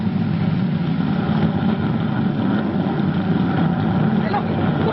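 Steady low roar of rocket engines firing on a spaceship in a 1950 science-fiction TV sound effect, a continuous muffled rumble, with voices talking over it.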